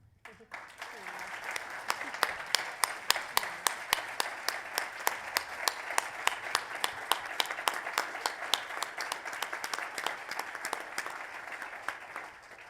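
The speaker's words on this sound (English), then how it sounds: "So I just want a round of applause for 2 people that were denied a moment in the sun." A sustained round of applause from the audience at a 2021 annual membership meeting, many hands clapping in a steady, dense patter for over twelve seconds, moderately loud and without talk.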